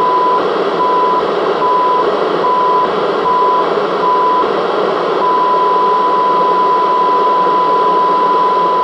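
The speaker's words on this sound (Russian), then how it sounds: "Мы видим, что сигнал на частоте 133 МГц в авиационном диапазоне FT7900 принимает абсолютно так же, как и в любительском диапазоне 2 метра" A Yaesu FT-7900 radio receives an FM test tone from a Chinese signal generator on 133 MHz: a steady, loud, pure beep held over a hissy noise bed, broken by a few brief gaps.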